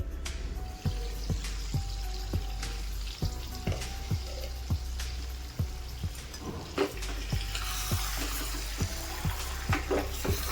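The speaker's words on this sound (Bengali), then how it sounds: "মিডিয়াম হিটে রেখে আরও কিছুক্ষণ একটু কষিয়ে নিন" Chicken bhuna masala stir-frying on medium heat, with a steady sizzle and regular scraping strokes of a spatula against the pan, close and continuous, without talk.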